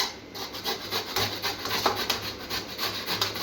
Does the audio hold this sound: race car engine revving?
no